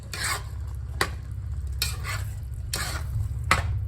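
Spoon stirring thick relish in a pan, four or five distinct scraping sweeps at a steady rhythm over a quiet low simmer, close and fairly soft.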